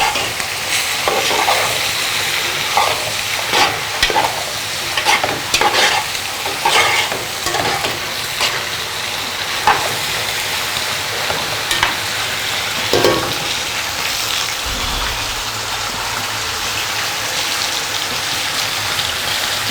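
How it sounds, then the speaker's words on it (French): Carrots and green beans fry in a pan while being stirred, making a continuous sizzle with frequent scraping and clicking spoon strokes, close and fairly loud. "Ensuite, nous rajoutons les carottes et les haricots verts. Et nous mélangeons au reste."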